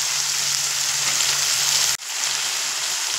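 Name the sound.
frying cashews, raisins and nuts in a pan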